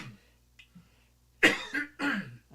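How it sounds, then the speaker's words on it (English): A person coughs, with faint throat noises at first and then two or three close, harsh coughs, quiet and with no talking. "hold on, got a cough"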